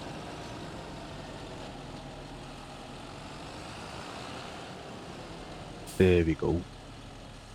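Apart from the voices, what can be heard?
tractor engine while parking near the shop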